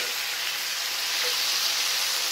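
Diced Roma tomatoes sizzle with spaghetti squash in a pan, a dense, even hiss of frying heard close and alone.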